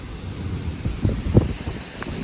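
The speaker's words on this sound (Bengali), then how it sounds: "প্রচুর বৃষ্টি হচ্ছে" Heavy rain falls near the airport in Jeddah as a steady wash of noise, with a few louder, muffled rumbles partway through.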